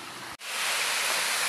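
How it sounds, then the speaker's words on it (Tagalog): A waterfall on a stream roars as steady, dense broadband rushing water, close and continuous, with a brief dropout near the start. "Falls."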